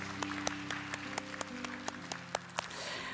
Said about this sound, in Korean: 우리 서로에게 격려와 또 환영의 박수 함께 나누도록 하겠습니다